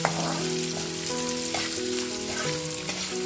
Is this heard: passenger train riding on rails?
no